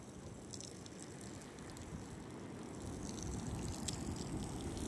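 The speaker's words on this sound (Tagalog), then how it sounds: "Ang lumanay ng ulan mga kagod." Soft, even rain hisses quietly at a white-sand beach in San Esteban, Ilocos Sur, during a mild storm, a faint steady patter that swells slightly toward the end.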